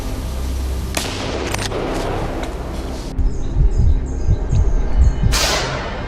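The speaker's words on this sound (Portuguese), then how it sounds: "Os disparos ecoavam pelo bosque, quebrando o silêncio." Gunshots during a night wild boar hunt in the woods, a series of sharp cracks in the second half with quick bursts that echo, following quieter ambient noise and a few isolated pops.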